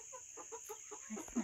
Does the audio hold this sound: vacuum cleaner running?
no